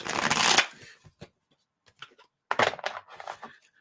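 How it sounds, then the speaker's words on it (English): A deck of cards is riffled in one loud burst, followed by soft taps and squaring, then a second quicker shuffle with light clicks, close and without talk. "I'm going to shuffle."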